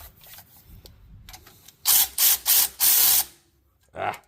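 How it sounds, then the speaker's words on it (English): A ratchet wrench snugs down a nut, starting with faint clicks and then four loud, close bursts of rapid ratcheting, followed by one more short burst; a voice speaks faintly underneath. "Now for my wrench."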